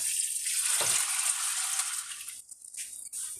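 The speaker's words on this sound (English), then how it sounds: "I'm going to add 8 cups of water." Water pours into a cooking pot for a batch of pinto beans soup, a steady, loud splashing rush filling the whole clip with a brief dip near the end, and no talking over it.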